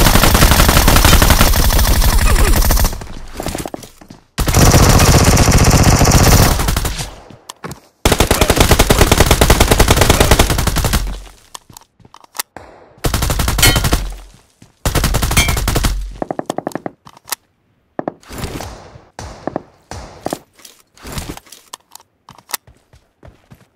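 Honey Badger rifle firing in PUBG Mobile's Metro Royale mode: loud, close bursts of rapid automatic fire, several sustained strings broken by silent gaps and ending in short, scattered shots.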